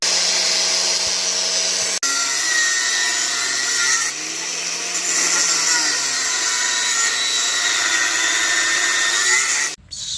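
An angle grinder cuts through metal mesh with a loud, steady whine that holds for about ten seconds, its pitch dipping slightly midway before it abruptly cuts off near the end, with no talking over it.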